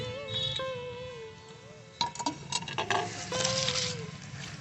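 Fruit and ginger tipped into a pan for a Nabanna festival dish, giving a soft sizzle under scattered clinks and stirring clatter, with a louder burst of scraping and pan knocks midway.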